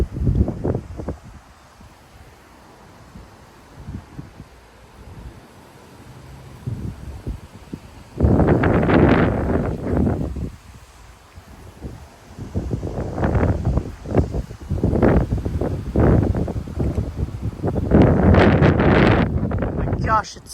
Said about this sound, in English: there goes a gust